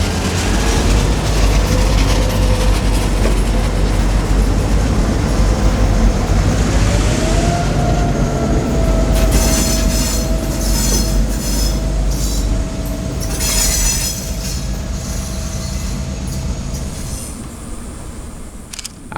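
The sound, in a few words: freight locomotives moving on industrial spur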